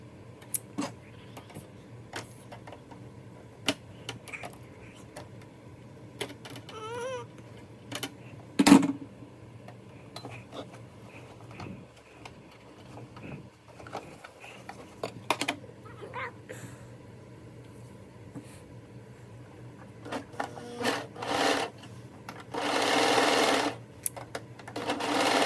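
A sewing machine stitches through denim jeans in short, intermittent bursts of running stitches, with a louder sustained run near the end, over a quiet room background.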